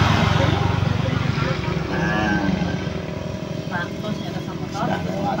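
A motorcycle passes along a roadside in a rural village, its engine loud at first and then fading, with a person talking over it.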